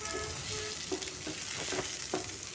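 Tomatoes sauté in a hot pan for fish curry, a steady close sizzle with faint stirring scrapes running beneath it and no talking.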